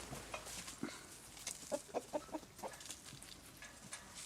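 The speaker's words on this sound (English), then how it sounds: "Let's say hi to the chickens" Hens clucking and murmuring close by in a coop, a run of short clucks rising in the middle over a busy farmyard background.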